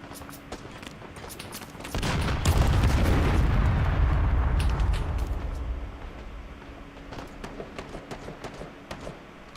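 A burst of heavy, booming video game gunfire and explosions swells for a few seconds, then fades into scattered sharp shots against a steady background hum.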